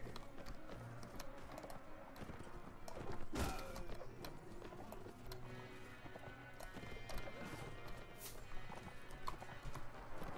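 Horses gallop in a Mount & Blade Warband battle, a dense, continuous clatter of hooves with an occasional whinny and a sharp impact, all under a busy battlefield wash.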